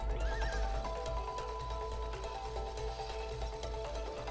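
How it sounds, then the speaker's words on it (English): A horse in the video game It Takes Two whinnies loudly and close, the neigh rising over a steady low rumble and light hoof clatter. "Horse. Horse."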